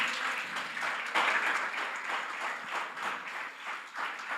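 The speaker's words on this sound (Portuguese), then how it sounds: "Uma salva de palmas para Cristo." Congregation in a church service applauds, a broad wash of clapping that rises and falls in waves across four seconds, moderately distant and with no talk over it.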